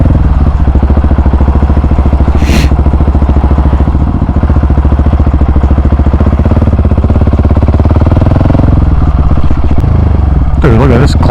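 A KTM 701 Supermoto single-cylinder motorcycle engine drones loudly and steadily while riding, with wind roar over the whole ride and a few brief clattering sounds near the end.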